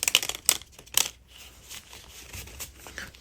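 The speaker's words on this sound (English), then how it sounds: "I'm going to shuffle a little bit." Tarot cards are shuffled by hand at close range, giving a few sharp papery riffles and snaps in the first second, then softer rustling and sliding card sounds.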